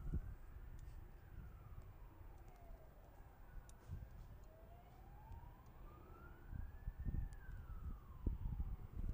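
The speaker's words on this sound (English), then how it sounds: "there's definitely a siren" An emergency vehicle siren wails up and down in slow sweeping cycles, distant and faint over a low rumbling background at Adelaide Airport.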